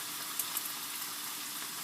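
Cooking wine, about three tablespoons, sizzles in a hot pan while making beef empanadas, a steady faint hiss of frying with a couple of small pops near the start.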